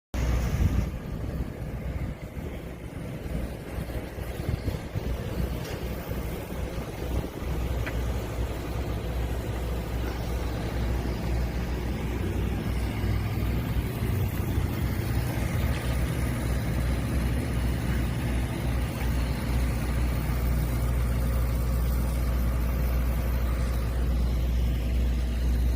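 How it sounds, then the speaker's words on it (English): A truck engine idles in front of the SEC building, a steady, loud low-pitched drone that holds evenly for the whole stretch with no break. "Here's the truck that I drove right in front of the SEC building."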